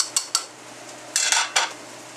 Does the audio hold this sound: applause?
no